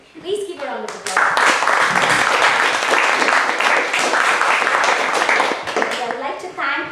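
Round of applause from an evening event audience after thanks to a host named David, dense clapping sustained for several seconds after a brief opening of talk.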